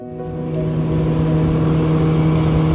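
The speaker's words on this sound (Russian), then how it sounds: "прогрели мотор" A jet boat engine warms up on the Katun River in Altai, giving a steady, loud, close idle with a constant low hum that holds evenly throughout, with no voices.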